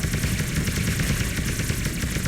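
An atomic bomb launched in the shooter game Alien Shooter 2: a dense, steady roar of explosive blast and rattling fire filling the whole moment, loud and without pauses.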